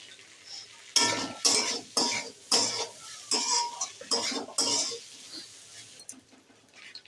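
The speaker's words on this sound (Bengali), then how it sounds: "এবার আমি একসঙ্গে আলুটা মিশিয়ে নাড়তে থাকবো।" A utensil scrapes and stirs fried potatoes with turmeric powder in a pan, about seven distinct clattering strokes in quick succession, close and clear, then fading to quiet.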